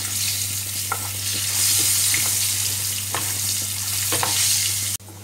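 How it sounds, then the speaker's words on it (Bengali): Potatoes with turmeric frying in a pan, a steady close sizzle with a low hum beneath and occasional scraping stir strokes, loud and continuous, cutting off sharply at the end, without voices. "তো আলুটাকে ভেজে নিচ্ছি।"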